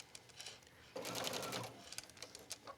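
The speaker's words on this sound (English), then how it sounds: "And stitch to the end." A sewing machine runs in quick bursts of rapid stitching through a hooded towel, close and fairly quiet, with a short steady run in the middle.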